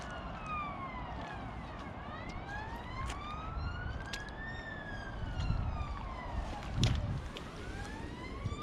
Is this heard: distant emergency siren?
yes